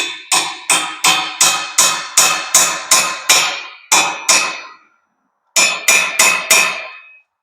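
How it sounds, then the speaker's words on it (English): A hammer taps a nut onto a spindle on a steel mobile picnic table frame, about fifteen crisp, evenly spaced metallic strikes, close and loud, with a short gap before a final quick run of blows. "And I'll just tap it in the rest of the way."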